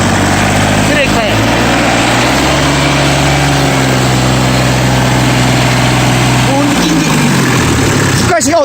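A Daedong tractor diesel engine idles steadily close by and surges slightly in the middle before dropping back. Brief voices and clicks break in near the start and end.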